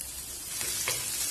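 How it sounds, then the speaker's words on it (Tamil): Four or five cloves of finely chopped garlic hit hot oil in a pan, giving a steady, broad hiss of sizzling that swells slightly midway, close and continuous, with no one speaking. "நான் எண்ணெய் நல்லா சூடானதும் இந்த பூண்டு சேர்த்திக்கலாம்"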